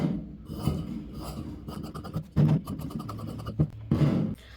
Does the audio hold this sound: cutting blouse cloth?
yes